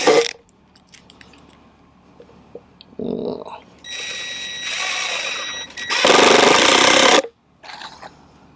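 Power drill driving screws into the timber of a raised garden bed, several short whirring bursts of a few seconds each with quiet gaps between, close by, with a brief knock or handling noise at the start.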